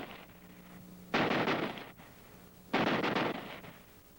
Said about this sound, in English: if you flick this change lever, you can fire at the full automatic rate